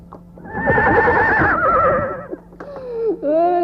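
A horse neighs loudly and close in a long, quavering whinny, followed by snorting and a second shorter whinny, with light hoofbeats beneath, used as an audio theatre sound effect.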